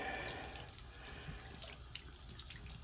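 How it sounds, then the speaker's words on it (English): Warm tap water runs steadily through a tobacco pipe bowl during cleanup, a faint continuous splashing hiss with small drips and no voices. "running some warm water, a warm water flush, in fact, through your bowl is not going to hurt it"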